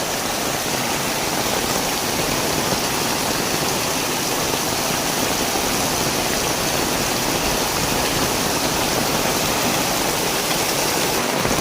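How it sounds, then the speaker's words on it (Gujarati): Heavy rain pours in North Gujarat as a dense, unbroken roar of water that holds at the same loud level from start to finish, with no voices. "તો મિત્રો જોઈ લો, જબરજસ્ત વરસાદ ચાલુ છે."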